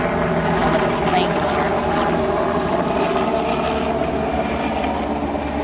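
A propeller plane drones steadily overhead throughout, a broad, constant engine roar with a low throb, heard outdoors near beehives.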